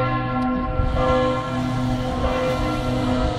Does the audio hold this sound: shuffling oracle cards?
no